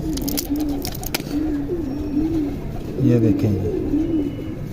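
Pigeons cooing nearby in soft repeated rolling phrases, several overlapping calls, while someone speaks over them at times.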